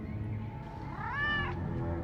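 A domestic cat gives a single drawn-out meow midway through, clear and fairly close, over a low steady background rumble.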